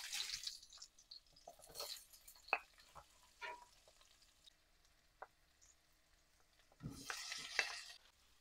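Garlic sautéing in a pan for dinengdeng gives faint, intermittent sizzles and scraping stirs, with brief louder bursts of frying near the start and end and quiet gaps between.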